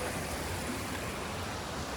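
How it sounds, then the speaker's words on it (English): Steady broadband rush of a stream flowing at a river crossing on the Cape Wrath Trail in the Scottish Highlands, continuous and fairly close with no breaks, likely mixed with some wind against the microphone. "here's another river crossing or stream crossing"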